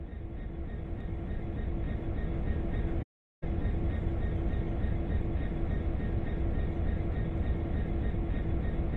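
A train in the Train Sim World game starts moving after its brakes are released, giving a steady, loud rumble of rolling stock with a faint tonal hum and one brief dropout partway through.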